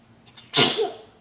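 A single sharp sneeze bursts out close by, loud and breathy, trailing off quickly into a soft voiced tail.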